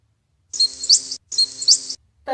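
A small bird chirps in an animal sound guessing game: two short bursts of bright, high tweeting separated by a brief pause, clear and alone.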